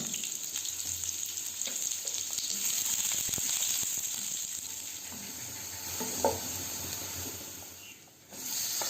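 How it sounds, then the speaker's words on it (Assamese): Chopped onions frying in two spoonfuls of hot oil in a wok, a steady close sizzle and hiss that goes on throughout, with light stirring scrapes. "এতিয়া কাটি ৰখা পিঁয়াজখিনি দি পেলাই মই ৰঙচুৱাকৈ ভাজি ল'ম।"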